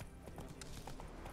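Horse hooves clip-clop in The Witcher 3 video game, a quick run of soft, rhythmic clops heard faintly against a continuous background.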